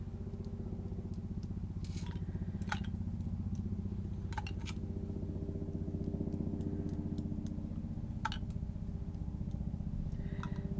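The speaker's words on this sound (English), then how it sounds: "That's a helicopter." A low, droning rotor-and-engine hum from a helicopter passes at a distance, faint and steady, with a few small clicks nearby.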